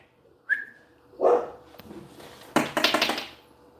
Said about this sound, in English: Sorry, that's just my dogs.